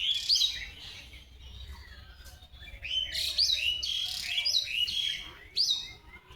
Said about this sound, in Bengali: আর চারিপাশে দেখো এখন পাখির কিচির মিচির ডাক